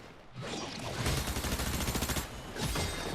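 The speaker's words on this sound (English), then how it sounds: "Thank God the legendary assault rifle packs a punch." Rapid bursts of legendary assault rifle fire from a Fortnite Zero Build battle royale endgame, loud and dense, with a short pause before a final volley.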